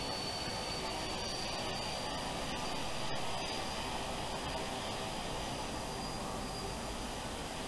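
Airplane engine in the BeamNG.drive video game, a steady, faint jet-like roar and whine that holds evenly throughout, with no talk.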